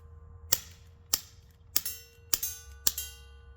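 Five sharp gunshots from a Winchester 1894 lever-action rifle or Colt 1873 revolver at target practice, evenly spaced about half a second apart, each a crisp crack with a brief ringing tail, moderately distant and alone with no voices.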